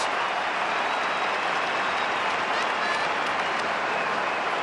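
A stadium crowd roars steadily after an Essendon goal against Port Adelaide in a 2011 AFL match, a loud, sustained wall of cheering and applause throughout.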